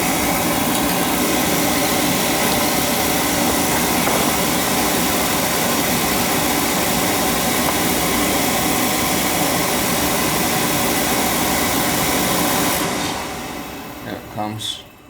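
A home oil burner runs with its pump going after being bled. A steady, loud droning hum holds for several seconds, then fades and stops near the end with a few faint clicks.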